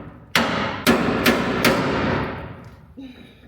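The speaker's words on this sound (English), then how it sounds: "now I'm gonna chisel out the spot welds" Four sharp metallic hammer strikes ring out on a chisel cutting spot welds on a Ford pickup bed, each blow leaving a lingering steel resonance, followed by a faint scrape.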